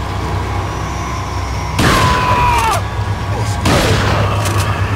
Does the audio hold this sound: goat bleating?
no